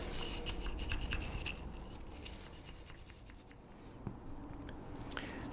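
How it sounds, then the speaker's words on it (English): Nylon brush scrubbing the locking grooves of a Colt Model 1903 Pocket Hammerless pistol, a soft, close scratchy rasp in quick repeated strokes, fairly quiet throughout with no talking. "You don't want to get too exuberant with scrubbing on this. A nylon brush should be pretty safe"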